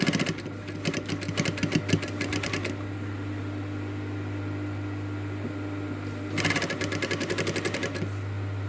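An industrial sewing machine stitches fabric in two loud bursts of fast, even needle chatter, one at the start and one near the end, with a steady motor hum running through the quiet gap between them.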